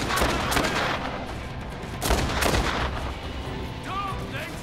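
Gunfire in the video game Dead Rising 2, a loud, continuous barrage of shots with heavy booming bursts, dense and close throughout.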